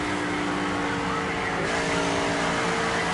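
A NASCAR race car in the NASCAR 25 video game runs laps at Charlotte, North Carolina, its engine drone steady, loud and continuous, with a slight change in tone partway through.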